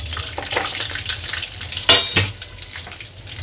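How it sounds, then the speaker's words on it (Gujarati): Peanuts and chilies frying in hot oil, a close crackling sizzle with stirring scrapes and a brief louder burst partway through, with no talking. "આપણું તેલ ગરમ થઈ ગયું છે, આની અંદર હવે સિંગદાણા નાખીશું। હવે મરચી નાખીશું।"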